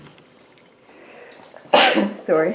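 A person gives a single sharp, loud sneeze during a dog training session, followed shortly by a brief spoken word.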